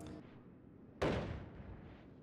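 Explosion in the pixel-physics video game Noita, one sudden loud blast that rumbles and fades over about a second, over a faint background bed of game ambience.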